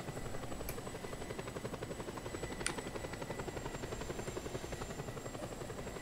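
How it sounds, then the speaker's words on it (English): A helicopter in Just Cause 2 drones steadily with fast rhythmic rotor chop and a thin whine, moderately loud with no talk. "What's this helicopter like?"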